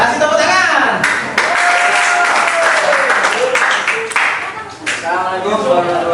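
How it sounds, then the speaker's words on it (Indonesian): A class applauding in a classroom, dense close clapping from many hands that swells and fades in bursts, with voices talking over it. "Kasih tepuk tangan."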